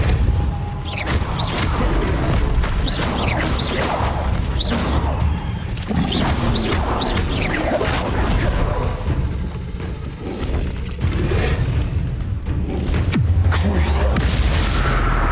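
Heavy booming impacts and crashing blasts of Repulsor and other combat spells in Hogwarts Legacy, loud and dense, layered with battle effects and a voice calling out spell names.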